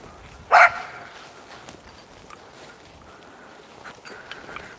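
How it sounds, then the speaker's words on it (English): A dog barking in a forest during an outdoor tree hugging championship, one sharp loud bark early on, then soft rustling and faint distant sounds. "That's Annie's dog wondering where Annie is because you can't see her anymore"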